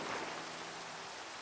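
Rain falling in the Minecraft video game, a steady, even hiss of downpour with no breaks, heard alone and at moderate loudness.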